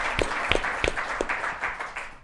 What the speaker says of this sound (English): I got to clap on that